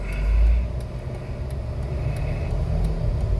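A 2013 Dodge Avenger idles low and steady in stop-and-go driving, its engine rumble swelling briefly near the start before settling into a constant hum.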